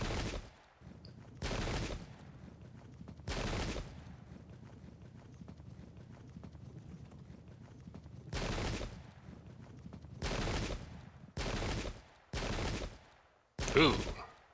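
Musket volleys in Pike and Shot ring out as separate crackling bursts, about eight of them spaced irregularly across the stretch, each a dense rattle of many shots over a quiet low rumble.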